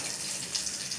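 Nigella seeds (kalo jeere) sizzle in a spoonful of hot oil, a dense, steady hiss of fine crackling, faint and close, heard alone.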